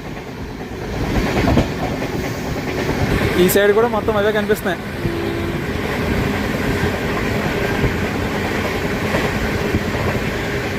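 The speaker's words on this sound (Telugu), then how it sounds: "సో ట్రైన్ స్పీడ్ అయితే మాత్రం మ్యాక్సిమం కొట్టుకెళ్తున్నాడులేండి" A passenger train travels at speed between Kadapa and Kurnool, filling the carriage with a steady rumble and rhythmic clickety-clack of wheels on rail joints, while a person talks close by over the continuous noise.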